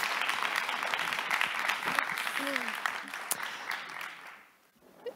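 Audience applause in a hall at a Danish panel debate on sport and climate, a dense steady patter of clapping that thins and fades out near the end, with a brief voice murmur mid-way.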